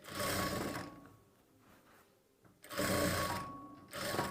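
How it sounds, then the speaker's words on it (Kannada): A sewing machine runs in short bursts while stitching a sleeve onto a garment body piece, a loud close mechanical whir pausing for a couple of seconds in between before starting up again. "ಸ್ಲೀವ್ಸ್ ಪೀಸ್ನ ಕೆಳಗಡೆ ಹಾಕ್ಕೊಂಡು ಬಾಡಿ ಪೀಸ್ನ ಈ ರೀತಿ ಮೇಲ್ಗಡೆ ಇಟ್ಕೊಂಡು ಸ್ಟಿಚ್ ಮಾಡಿ"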